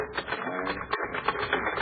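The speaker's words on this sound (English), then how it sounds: "You take it down on the typewriter." Typing on a typewriter in an old radio drama: a rapid run of crisp mechanical key strikes with a few brief pauses, close and steady, alone without speech.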